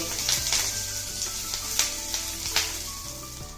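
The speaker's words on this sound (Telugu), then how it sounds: "మీడియం ఫ్లేమ్ మీద వీటిని త్వరగా వేగనిద్దాం" Garlic frying over a medium flame in a pan for spicy carrot 65, a dense continuous sizzle heard up close with several sharp pops and crackles rising above it, no talking.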